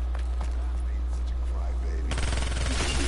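Gunfire rattles in a first-person video game shooter, bursts of rapid shots that thicken into a denser volley near the end, heard over a steady low hum with a player's voice speaking.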